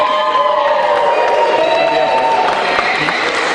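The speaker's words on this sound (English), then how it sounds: "Give a cheer." A crowd of alumni cheering and whooping at a school pep rally, loud mixed shouts and some clapping rising together over a short burst.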